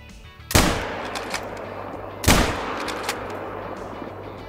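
Two loud rifle shots ring out about two seconds apart while hunting a raccoon in the video game Call of the Wild, each a sharp crack that trails into an echoing tail over low background ambience.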